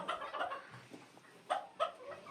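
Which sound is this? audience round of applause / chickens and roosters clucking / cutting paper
chickens and roosters clucking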